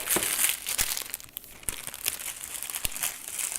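Product packaging for a small LED video light being ripped open, with quiet crinkling and tearing plus a few sharp snaps and rustles, close by.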